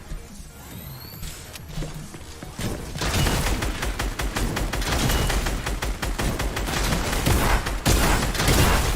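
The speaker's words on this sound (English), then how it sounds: "he's shooting me" Rapid bursts of video game gunfire crack out in dense volleys after a quieter opening, loud and sustained through most of the stretch, with a few sharp impacts and no voices heard.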